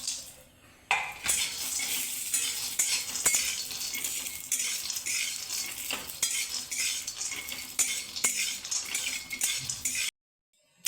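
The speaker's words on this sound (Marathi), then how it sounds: "त्यात शेंगदाणे टाकायचे, शेंगदाणे भाजून घ्यायचे, चांगले खरपूस शेंगदाणे भाजून घ्यायचे।" Peanuts roast dry in a pan while a spoon stirs them, making bright rattling, scraping strokes and a light sizzle throughout before the sound cuts out abruptly near the end.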